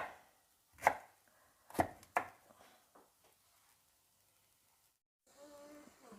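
Several sharp knife chops strike a cutting board in quick irregular bursts, then quiet, followed by a voice speaking briefly.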